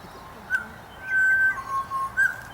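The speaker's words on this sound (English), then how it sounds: "There's a bird right there." A bird in Brisbane gives clear whistled calls on a morning outdoors, a few short thin notes and then a longer sustained whistle, moderately near, over a steady background hum, with no talking.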